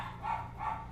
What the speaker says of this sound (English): your dogs are upset